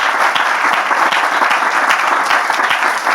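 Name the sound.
audience applause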